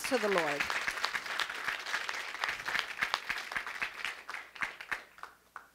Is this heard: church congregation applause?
yes